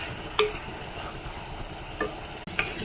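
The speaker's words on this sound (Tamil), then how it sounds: "நல்லா வதங்கினதுக்கு அப்புறம் கொஞ்சம் மஞ்சத்தூள் போட்டு நல்லா வதங்கிடுச்சு" Brinjal, broad beans and cluster beans sauté with turmeric in a pan for a kuzhambu, giving a low, even sizzle broken by a couple of light utensil clicks.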